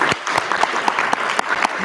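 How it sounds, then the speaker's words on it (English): A conference audience claps for a closing panel on educational equity, with a brief burst of fairly sparse, distinct handclaps that sound close and steady throughout. "We give a round of applause for our panel."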